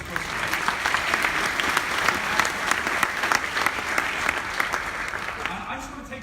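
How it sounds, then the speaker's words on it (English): A live audience gives a big round of applause for three speakers at an entrepreneur event, with dense, steady clapping that fills the whole stretch and eases slightly toward the end. "Give me all 3 big round of applause."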